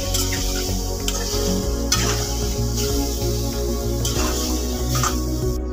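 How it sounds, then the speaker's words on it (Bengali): Ginger garlic paste frying in a pan for chicken do pyaza, a steady close sizzle with scraping stir strokes recurring throughout, no voices. "এটাকে একটুখানি ভেজে নেবো যে আদা রসুনের কাঁচা গন্ধটা চলে যাওয়া পর্যন্ত"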